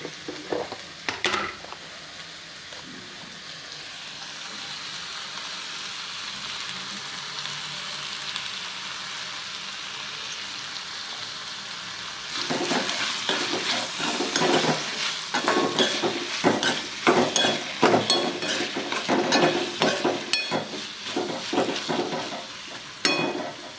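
Ivy gourd and potato cooking in a pan, salted to hurry it along, with a steady sizzle and repeated stirring scrapes that grow busier and louder in the second half; no talking.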